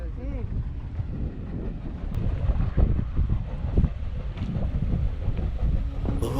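A motor trawler boat's engine rumbles steadily at low pitch alongside wind buffeting and some indistinct voices, close and continuous throughout, on a river trip from Mongla port to Karamjal, Sundarbans.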